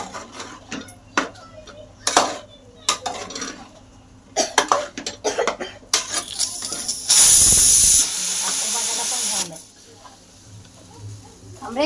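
A pressure cooker lets off a loud burst of hissing steam for a couple of seconds, set between clattering kitchen sounds and people talking nearby.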